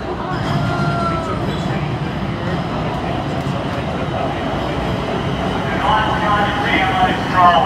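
A trolley rolls past behind on the streets of Pittsburgh, a steady rumble of wheels and rail noise with faint squeals, running continuously and swelling slightly near the end amid background chatter.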